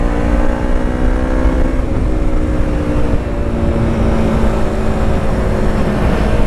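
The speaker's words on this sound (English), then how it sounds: "Traffic's pretty congested today." Steady engine drone of a Yamaha MT-03 motorcycle moving through congested city traffic in Chiang Mai, Thailand, a continuous loud hum with wind noise and no voices.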